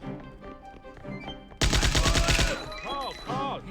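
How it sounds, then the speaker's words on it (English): Machine gun fire in a video game: a loud, rapid burst of shots breaks in suddenly after a quieter musical stretch, then gives way to other game effects. "He drops this machine gun, and we use this to blast our way out."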